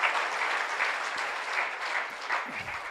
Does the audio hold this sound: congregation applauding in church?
yes